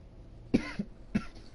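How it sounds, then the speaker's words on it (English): A person coughs in short bursts, with two or three rough coughs spaced about half a second apart, fairly close and moderately loud, while a game plays quietly in the background. "Sorry that I keep coughing."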